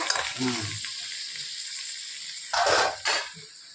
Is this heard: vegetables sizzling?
yes